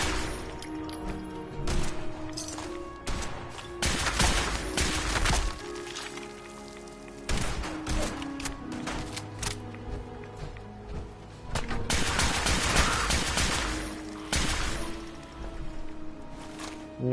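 Gunfire in Fallout 4 on PS4 Pro rattles in dense, noisy bursts with brief lulls between volleys, loud and close, with a faint voice now and then underneath.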